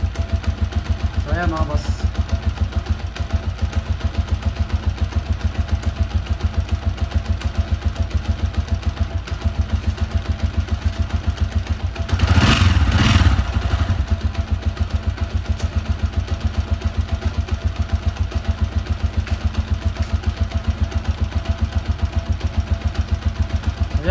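A Honda Alpha 125 motorcycle converted to a TMX 155 engine idles steadily after electric starting, with an even rapid pulsing thump and a brief louder rev near the middle, close by, while someone speaks briefly at the start.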